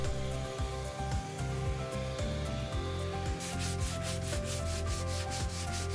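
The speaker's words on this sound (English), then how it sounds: "Mom is taking her time with the 180 to get that lacquer all roughed up" Hand scuff-sanding a lacquer finish on an MDF dresser with 180-grit sandpaper, a steady close rasping rub that repeats in quick back-and-forth strokes under a backing of music.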